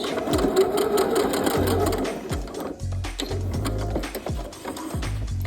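A sewing machine back stitching a denim dress runs in close, loud bursts, its needle chattering rapidly in short forward-and-reverse runs separated by brief pauses and mechanical clunks.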